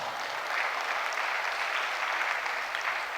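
Steady applause from an audience at a university inaugural lecture for a professor of English and Applied Linguistics, a dense even wash of clapping that holds for the whole stretch without a break.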